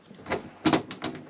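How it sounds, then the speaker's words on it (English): A bolt is unscrewed from thin metal, giving a few quick, close, dry clicks and scrapes in an irregular burst. "And we unscrew this."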